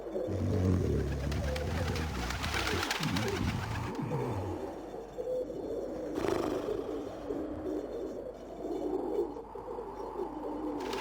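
Pigeons coo in the Legend of Mulan PlayStation video game, soft repeated burbling calls over a dense, steady bed of game ambience and music, with no speech.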